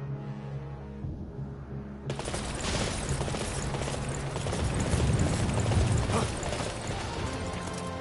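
Horse galloping in the video game Dynasty Warriors 9: after a quieter opening, a dense, continuous rush of hoofbeats and clatter starts abruptly and stays loud to the end, with no talking.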